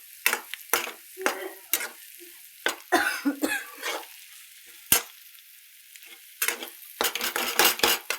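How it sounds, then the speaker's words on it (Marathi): Eggs cracked into a pan with chillies for Indian egg bhurji sizzle quietly while a spatula scrapes and stirs in repeated close bursts, with occasional sharp clanks against the pan. "तुम्ही बघू शकता मी अंडे टाकले त्याच्यात."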